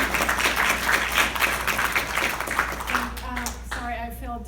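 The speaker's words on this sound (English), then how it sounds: "if everybody could just hold their applause" Audience applause at a chamber of commerce gathering, scattered clapping running under a speaking voice for a few seconds, then fading as talk continues.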